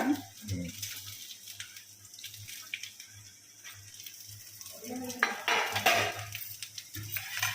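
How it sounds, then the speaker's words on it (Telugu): Coconut frying lightly in oil in a pan, a soft sizzle under repeated clinks and scrapes of a spoon against the metal pan, quiet and close. "అదే నూనెలో మళ్ళీ కొబ్బరి వేసింది."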